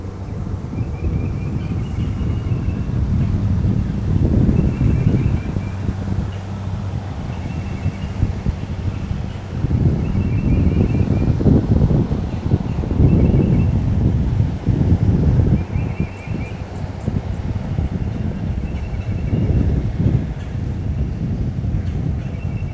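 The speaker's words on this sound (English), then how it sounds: "That was hampered by the wind." Steady wind blowing outdoors beside a river, a continuous low rushing roar with gusts swelling and easing throughout, loud and close to the microphone with no voices.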